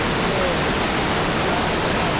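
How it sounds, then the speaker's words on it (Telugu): A small roadside waterfall in the rainy season, along a hill road at Mahendragiri, gives a loud, unbroken wash of rushing water that fills the whole stretch evenly with no pauses. "చిన్న వాటర్ ఫాల్స్ కదండి."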